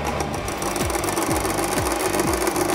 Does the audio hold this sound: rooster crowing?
no